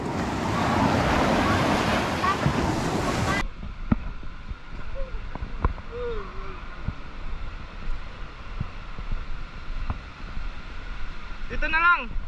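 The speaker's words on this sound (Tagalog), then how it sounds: "Malakas yung alon." Strong ocean waves and gusting wind on Boracay beach in bad-weather season, a loud broadband surf roar for the first few seconds, then quieter steady wind and water with scattered distant voices and a few short shouts near the end.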